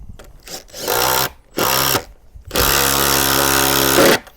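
A power tool tightening a nut and washer onto a bolt for a garden room door lintel, whirring in three bursts, two short and then one longer, loud and close.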